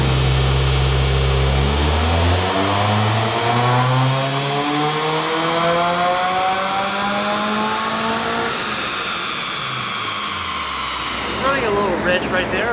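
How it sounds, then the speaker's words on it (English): A Subaru WRX with a big turbo, running a base tune on 91 octane, revs on a dyno: a loud, continuous engine note climbing steadily in pitch through a long pull, then dropping back near the end. "I think this car's gonna sound pretty cool."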